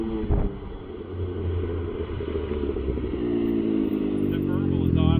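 Can-Am Ryker with an aftermarket exhaust idling nearby, a low steady burbling rumble that swells slightly toward the end, with people talking over it.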